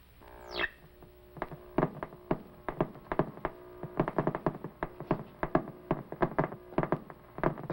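A cosmic ray detector's irregular sharp clicks pop in a steady stream over a low electrical hum, some spaced out, others bunched in quick clusters.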